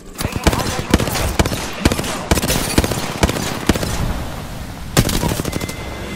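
Gunfire in an Apex Legends firefight: sharp loud shots in rapid bursts and scattered single cracks, some close and some farther off, with intermittent talk underneath.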